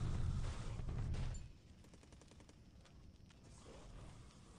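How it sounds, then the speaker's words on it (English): Naval bombardment in the wargame War in the Pacific: a loud booming rumble of heavy fire for over a second, followed by a quieter stretch of rapid, crackling bursts of distant gunfire. "this is us bombarding him"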